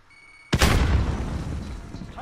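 A video game grenade goes off in one sudden loud boom that decays into a rumbling tail over about two seconds, following a quiet lead-in.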